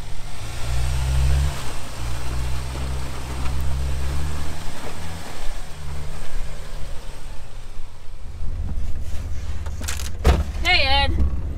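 An off-road truck's engine rumbles steadily close by on a dry lakebed and shifts into a deeper drive-off note, while people talk over it near the end.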